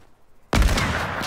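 A sniper rifle shot in the video game Fortnite: one sudden loud blast after near silence, followed by a sustained booming echo that fills the remaining moment.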